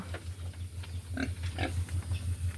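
Pigs about two months old and roughly 50 kg grunt in short nasal bursts over a steady low hum, several grunts spaced irregularly and close by.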